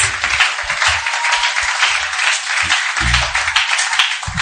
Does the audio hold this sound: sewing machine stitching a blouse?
no